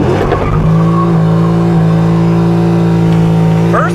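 A C6 Corvette fitted with a new torque tube revs hard and accelerates through its gears, the engine note climbing steadily before bouncing off the rev limiter near the end; loud, close and continuous with no talking.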